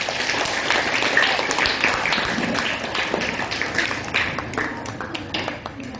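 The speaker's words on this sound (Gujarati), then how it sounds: "તાળી પાડી લ્યો તમારી માટે એક વખત." Children at a school program on good habits clap together in a sustained burst of applause, dense and fairly loud throughout, with a few faint voices mixed in.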